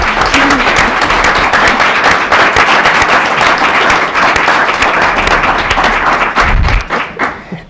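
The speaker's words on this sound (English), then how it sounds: "You can clap for him" Loud sustained applause from a crowd, dense clapping throughout, with a brief thump near the end as it begins to fade.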